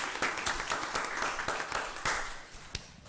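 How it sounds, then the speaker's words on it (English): Applause from the audience at a school board meeting: a spread of brisk, overlapping hand claps that holds steady for about three seconds at moderate level. "Let's give another huge round of applause for all of those who helped to make this happen."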